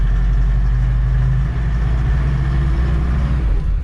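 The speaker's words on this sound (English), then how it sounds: "you can hear it's very, very smooth running, very quiet diesel engine" A Mahindra Roxor diesel engine idles smoothly and quietly at a steady, even low drone, heard close by and alone.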